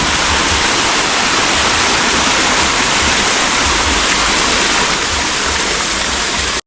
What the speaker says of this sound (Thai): มุมนี้คือมุมน้ำตกจำลองที่ฟังเสียงน้ำไหลแล้ว รู้สึกถึงความเย็นสบายอารมณ์กันเลยทีเดียวนะ